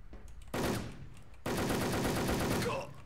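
Two bursts of rapid automatic gunfire in a video game, a short volley followed by a longer, sustained stream of shots, loud and close.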